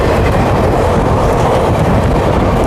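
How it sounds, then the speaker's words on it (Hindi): A WAP4 electric locomotive hauling the 18110 Itwari–Tatanagar Express thunders past at a crossing, a loud, dense, continuous rumble of wheels and cars very close by. "यहाँ क्रॉस होने जा रही है WAP4 लोकोमोटिव के साथ 18110 इतवारी टाटा नगर एक्सप्रेस"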